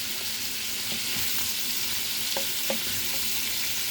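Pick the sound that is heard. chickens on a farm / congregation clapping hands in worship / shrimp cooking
shrimp cooking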